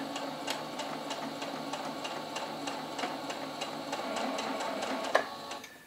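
A sewing machine stitches quilt seams at a slow, steady pace, giving soft, regular mechanical ticking over a low motor hum, fairly quiet and close. A single sharper click comes near the end.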